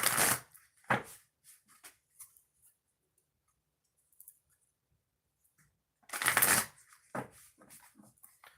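Oracle cards are shuffled in two quick riffle bursts, one at the start and another near the end, with soft taps and handling noises between.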